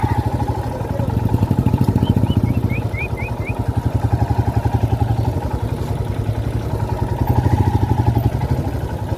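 A motorbike engine throbs with a close, steady pulsing beat as it is ridden slowly up to park at a jungle resort in Jhargram, with no one speaking.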